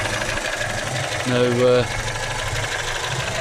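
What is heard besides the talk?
1971 Volvo 145 engine idling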